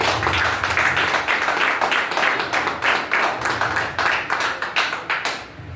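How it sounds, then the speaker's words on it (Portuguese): A church congregation applauds together, a dense, steady clapping with rhythmic pulses from many hands that holds throughout and stops near the end, loud and close, with no speech. "Vamos recebê-lo com as palmas."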